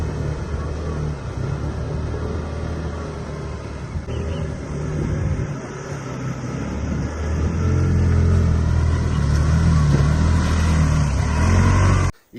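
A CFMOTO CFORCE 1000MV quad bike engine drives through deep mud with a continuous low rumble that grows heavier and louder in the second half, then cuts off abruptly at the end.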